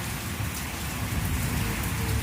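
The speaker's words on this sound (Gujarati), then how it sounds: "મસ્ત વરસાદ અને વીજળી સાથે વરસાદ ચાલુ થઈ ગયો છે" Rain falls steadily during a thunderstorm, a dense close patter on surfaces that holds even and loud throughout, with no thunder or voices standing out.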